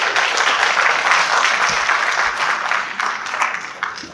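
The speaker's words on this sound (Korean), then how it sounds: "우리가 박수로 한번 모셔보겠습니다" An audience at a training lecture for evangelists applauds to welcome a pastor to the stage, steady dense clapping that thins slightly toward the end over about four seconds.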